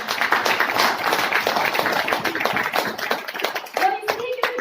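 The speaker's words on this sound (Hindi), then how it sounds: "तो मैं चाहती हूँ जोरदार तालियां हो जाए एक बार सर के लिए।" Loud audience clapping for a network marketing speaker's mentor, dense and sustained across the whole stretch, with voices calling out over it and a brief voiced tone near the end.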